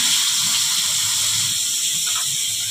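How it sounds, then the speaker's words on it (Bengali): Vegetables rubbed with salt and turmeric fry in hot oil, giving a continuous loud sizzling hiss up close and steady throughout, with no voices. "চল ভাজাটা করি।"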